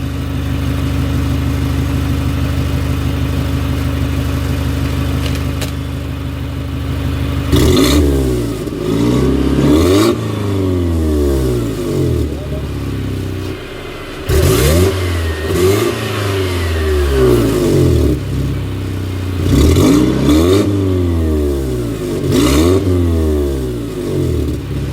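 A car engine fitted with a Record Monza-type exhaust valve idles, then revs hard in repeated bursts, each rise and fall of pitch distinct, loud and close with no talking.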